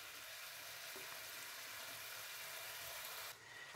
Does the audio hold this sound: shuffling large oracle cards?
no